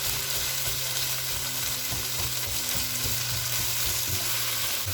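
Minced chicken with chillies and coriander fries in oil over a high flame, giving a loud, continuous sizzle with the scrape of stirring, no voices.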